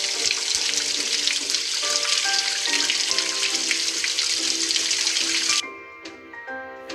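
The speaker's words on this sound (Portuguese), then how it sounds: "Vamos passar as patinhas dos filhotes na água para ficarem molhadas." Water splashes and trickles steadily in a Paw Patrol video game as the puppies' paws are dipped to get wet, backed by cheerful game music, then the sound cuts off near the end.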